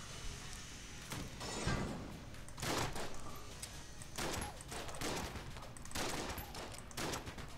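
Trick Shot gun firing in the video game Enter the Gungeon, a string of muffled bursts spaced about a second apart under game sound, fairly quiet.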